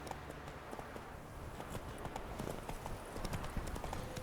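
Roach the horse trots in The Witcher 3 with a quick, steady clip-clop of hooves, close and continuous over a faint game ambience, with no one talking.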